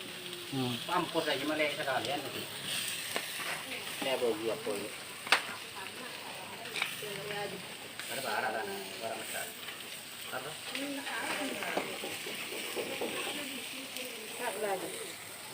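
Beef frying in a pan for satay gives a steady soft sizzle with occasional sharp pops, moderately distant, under ongoing Malay talk.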